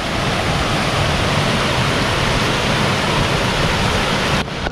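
The Himemachi waterfall at Hiraizumi, Iwate, roars loudly and continuously as a dense, steady wash of falling water heard from close by.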